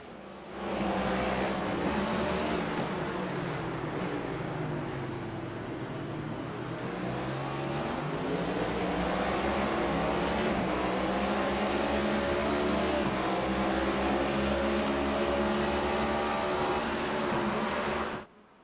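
Race cars roaring around Circuit of the Americas in a racing video game, a sustained loud engine drone with shifting pitch as several cars run together, steady for most of the stretch before cutting off abruptly.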